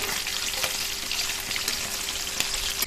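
Fish pieces fry in hot oil in a pan in a village-style kitchen, a bright, steady crackling sizzle with scattered pops and a faint hum, close by and without speech.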